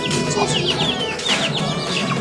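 Hens clucking at a bird market among Pakistani and Vietnamese black Aseel chickens from Mianwali, a busy chorus of overlapping nearby clucks and squawks with some wing flapping.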